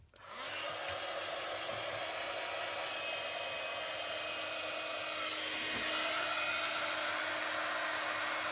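A craft heat gun blows steadily to melt embossing ink, a loud continuous whir with a high whine that holds from start to end with no talking.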